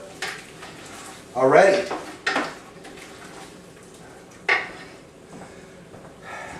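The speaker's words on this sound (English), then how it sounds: "I'm going to stir this up a little bit." A spoon stirs Italian tomato gravy in a pot, giving a few scraping swishes and metallic clanks against the pot under occasional speech.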